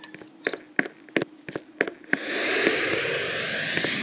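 A bomb in a video game: a series of sharp, clicky ticks comes first, then a sudden burst into a loud, sustained roaring rush that holds to the end.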